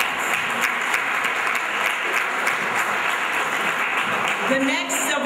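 Dense, steady clapping from a theatre audience at a civil rights celebration, applauding a woman, with a few voices calling out near the end.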